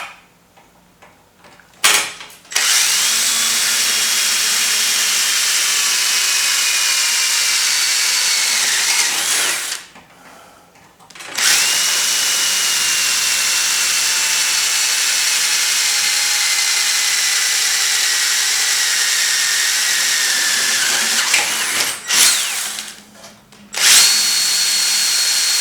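Power drill boring the remaining holes in a bench power supply case: three long, loud whining runs, each separated by a brief pause, with the pitch sagging slightly as the bit bites.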